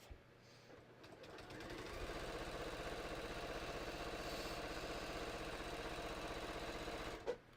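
A sewing machine stitches fabric layers for a hiking belt. It starts with a few slow stitches, then settles into a fast, steady, even mechanical chatter for several seconds and stops with a short clunk. Quiet and close, with no voices.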